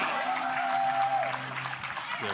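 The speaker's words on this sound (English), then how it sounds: "The crowd getting behind Parenteau a little bit here, trying to will her back into this game" Spectators at a pickleball world championship match clap at a moderate distance, with the applause running under a commentator's talk.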